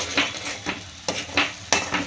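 A spoon stirs boiled eggs being fried in thick masala gravy in a pan, giving several scraping stirs over a steady sizzle, close up and moderately loud, with no voices.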